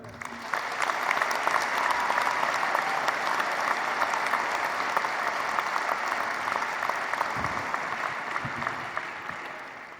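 Sustained applause from a commencement audience welcoming Dallas Mayor Eric Johnson to a December 2019 ceremony, a thick, even patter of many clapping hands that carries steadily for the full stretch and tapers slightly near the end.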